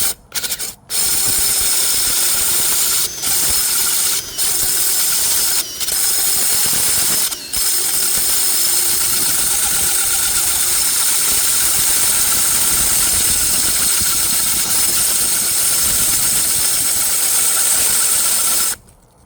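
A power tool cuts a circular hole through a wall for a portable air conditioner exhaust vent, making a loud, close, continuous grinding and rasping whine with a few brief pauses early on, then a steady run to the end, with no talking.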